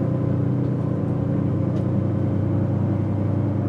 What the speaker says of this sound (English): let's give it some wide open throttle now